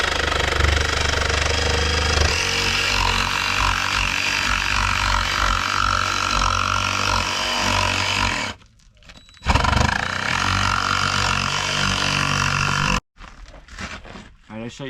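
A jigsaw cuts a vent hole through a roof for a range hood, giving a loud, continuous, harsh buzzing roar up close, with two brief stops partway through and muffled sounds after the second stop.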